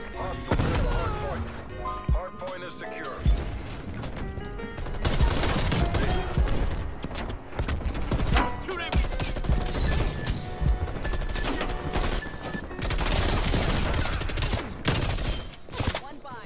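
Gunfire in Call of Duty Cold War, with AUG rifle bursts and rapid shots crackling repeatedly amid game music and explosions, loud and busy, while people talk over it at times.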